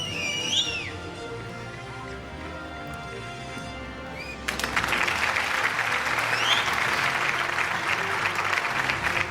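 Audience applause at an annual corporate award show after a runner-up is named, starting as a moderate crowd sound and swelling abruptly into louder, dense, sustained clapping, with faint whistles early on.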